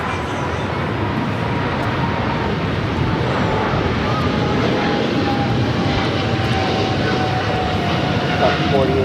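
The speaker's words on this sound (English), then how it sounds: "This is Air France Flight 21 taking off to Paris on the 777-300ER." An Air France Boeing 777-300ER jet roaring down the runway on takeoff at Los Angeles International Airport, a loud, steady broadband engine roar with wind buffeting throughout.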